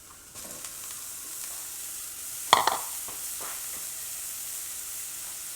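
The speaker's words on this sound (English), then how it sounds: "When you could smell the onions and the jalapenos popping throughout the kitchen" Onions and jalapeños fry in a pan while making a queso blanco dip, giving a steady close sizzling hiss throughout, with a brief louder clatter of stirring near the middle and no talking.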